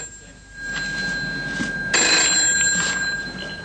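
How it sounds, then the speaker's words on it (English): An office telephone in a 1970s Belfast party office rings with a sustained bright electronic bell tone that grows louder partway through, heard alone without speech. "A phone call from the city of Kiev in the Ukraine catches up with Michael O'Riordan in the Belfast office of the party"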